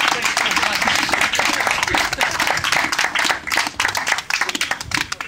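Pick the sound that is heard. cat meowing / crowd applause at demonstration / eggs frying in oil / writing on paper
crowd applause at demonstration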